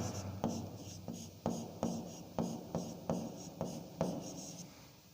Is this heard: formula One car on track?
no